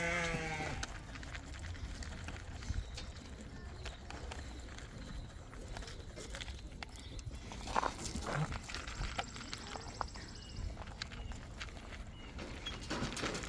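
Goats at a safari park petting zoo, with bleating and shuffling hooves in a steady, busy outdoor background and occasional bleats standing out near the start and middle.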